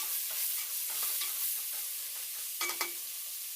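Mutton biryani mixture with fresh coriander and mint leaves stirred in a pan: a close, continuous sizzling hiss broken by scraping stirs, with a couple of sharper clanks near the end.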